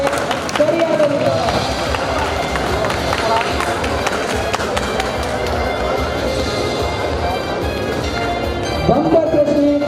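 Loud applause from an audience at a state-level teachers' quiz programme at a school, a dense steady patter of many hands clapping for several seconds while an announcer's voice carries over the crowd.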